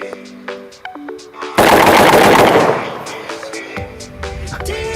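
One loud, close shotgun blast fires a low-brass shell at soda cans, with a sharp crack that decays over about a second among lighter clinks and outdoor noise.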